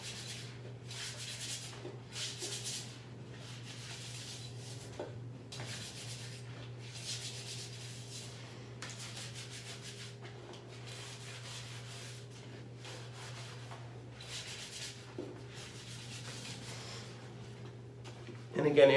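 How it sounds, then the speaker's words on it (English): A brush scrubs up under the rim ring of a toilet bowl in a bathroom, giving a run of rhythmic rasping strokes at close range over a low steady hum. "And I'm just going to scrub."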